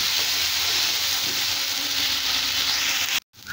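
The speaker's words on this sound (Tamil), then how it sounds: "அடுத்தது இந்த இஞ்சி பூண்டு பேஸ்ட்டு சேர்த்துக்கலாம்." Ginger garlic paste sautéing with onions in a pan for paneer butter masala gives a loud, steady sizzle and hiss that cuts off abruptly near the end, with no voices.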